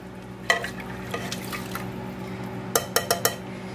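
Cinnamon sticks and cloves are stirred through boiling water in a cooking pot, giving a few light scraping clinks and sloshes over a steady simmering bubble. A quick cluster of sharper knocks comes near the end.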